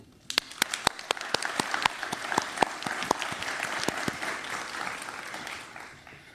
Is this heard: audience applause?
yes